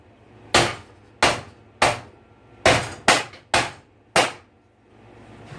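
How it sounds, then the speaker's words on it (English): Seven sharp hammer taps on electrical box knockout plugs laid on a hard surface, spaced irregularly, close and fairly loud over a quiet background. "you tap them with a hammer"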